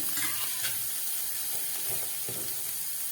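Chopped tomato tipped into onions already frying in a pan for a prawn and elephant foot yam curry, giving a steady, moderately quiet hiss and sizzle with a few soft stirring knocks. No one speaks.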